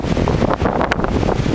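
Cold wind gusting hard against the microphone, a loud buffeting roar with rushing, uneven surges, likely outdoors near water.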